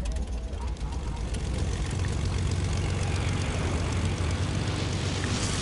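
A video game airplane's propeller engine drones steadily and loudly, a broad continuous rumble that swells slightly toward the end.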